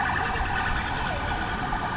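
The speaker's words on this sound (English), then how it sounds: "We've got a police car now." A police car siren on the Blackpool seafront promenade wails steadily at moderate distance, a continuous tone over outdoor background noise, with no speech.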